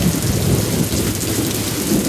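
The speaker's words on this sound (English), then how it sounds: "It's good riding the motorcycle in the rain." Steady heavy rain pours down while riding a motorcycle, a continuous close, loud hiss and patter with no pauses and no voices.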